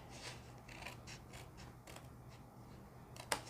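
Scissors snip through folded cardboard in a run of short, crisp cuts, with a sharper clack near the end, close by and fairly quiet over a steady low hum.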